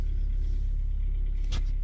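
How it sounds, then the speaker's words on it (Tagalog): Steady low engine rumble inside a car driving to school, with a brief sharp click or rustle near the end. "Magdadrive na tayo papuntang school."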